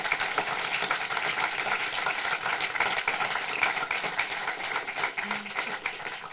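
An audience claps for Bond director John Glen, a lively, uneven patter of many hands at moderate volume that continues steadily throughout.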